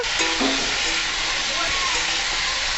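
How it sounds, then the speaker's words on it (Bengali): Potatoes, radish and other vegetables frying with salt and turmeric in a pan, a constant close hiss and sizzle throughout, with a brief faint voice near the start. "দিয়ে সবজিটাকে আমি ভালো করে ভেজে নেব"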